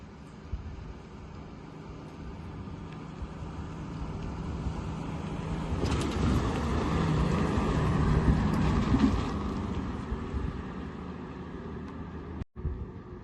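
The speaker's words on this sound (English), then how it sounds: "My dad just went by with the 48 sedan delivery." A 1948 sedan delivery classic car drives past, its engine rumble growing from faint to a fuller pass in the middle before fading, with a brief knock near the end.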